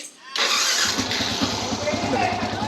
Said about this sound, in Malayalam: വണ്ടി സ്റ്റാർട്ടിംഗ് ആയിട്ടുണ്ട്